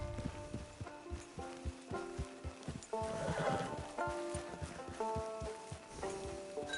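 A horse neighs loudly in the middle while its hooves clip-clop in a steady, close rhythm throughout.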